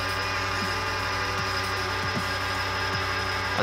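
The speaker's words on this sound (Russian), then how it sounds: "Вот так шумит вентилятор изнутри." A worn PC cooling fan that spins sluggishly and with strain gives a steady, close whirring drone with a tonal hum and faint recurring ticks, with no talk.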